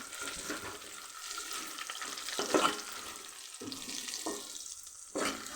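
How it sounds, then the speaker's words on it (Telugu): Bamboo shoots tossed with a pinch of turmeric fry in a pan, giving a steady close sizzle with scraping stir strokes and a few sharper clanks along the way. "చిటికెడు పసుపు వేయగానే కలర్ఫుల్గా బాగా వేగుతున్నాయి ఫ్రెండ్స్"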